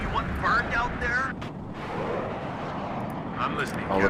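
A Su-24 attack jet roars overhead under anti-air fire in the strategy game Warno, a loud continuous jet rush mixed with distant bursts and rumble, with someone talking over it.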